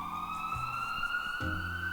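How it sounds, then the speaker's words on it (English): Electronic siren sound effect, a steady high wailing tone layered with lower honking notes that shift partway through, loud and alone with no speech. "Let's put the siren on for that."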